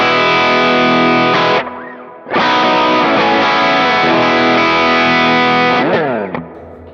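Electric guitar played through a Line 6 Helix worship preset with a transparent, low-gain overdrive, loud sustained chords ringing out, a short pause, then more strummed chords with slides and a fading tail.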